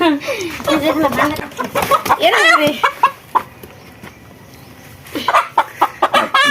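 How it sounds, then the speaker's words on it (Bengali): A village-raised local rooster clucks in several loud, close bursts, with a quiet pause midway and more calls near the end; people talk alongside it. "আজকে আমরা আবারও একটা দেশি মোরগ কাটবো"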